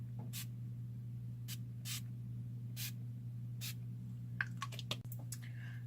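Several short hissing bursts of Urban Decay All Nighter setting spray, spaced apart over a quiet steady hum, followed by a few faint taps and rustles.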